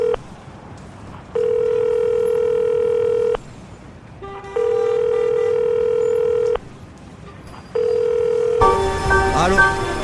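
A telephone call being placed: a short burst of dialing beeps, then three long, steady ringing tones separated by pauses, the last cut off as the line picks up and noise follows.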